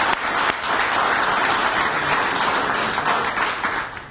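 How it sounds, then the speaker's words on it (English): Loud, steady clapping from an Alaska business roundtable audience honoring a Coeur Alaska staff member named Jan, sustained throughout with a few sharp individual claps standing out. "So, round of applause for Jan."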